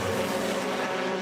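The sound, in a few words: BTCC touring race car running off into gravel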